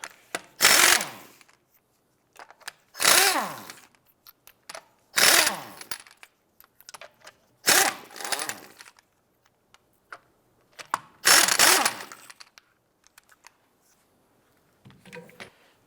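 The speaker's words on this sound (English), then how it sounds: "19mm socket. Let's go ahead and remove the lug nuts." An impact wrench with a 19mm socket spins the lug nuts off the rear wheel of a 2006-2011 Cadillac DTS, firing about six loud, short rattling bursts separated by quiet gaps.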